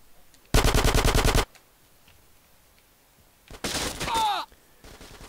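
Rapid automatic gunfire in GTA San Andreas comes in two loud, sustained bursts about a second long, separated by a quiet gap. The second burst is mixed with warbling, sweeping game effects.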